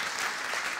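A short burst of moderate applause from an audience at a private hospital awards ceremony, greeting the event's partners, brief and uniform with no voices.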